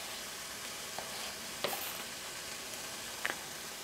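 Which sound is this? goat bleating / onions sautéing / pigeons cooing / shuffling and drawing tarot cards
onions sautéing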